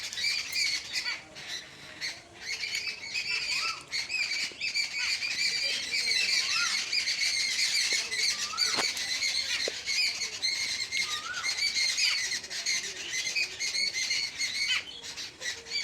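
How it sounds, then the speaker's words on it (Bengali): A crowd of birds in a garden squawks and chirps noisily at once, a dense, continuous chatter of overlapping calls with occasional sharp squeals and wing flutters, fairly close by. "এত পাখি কিচিরমিচির করছে কেন"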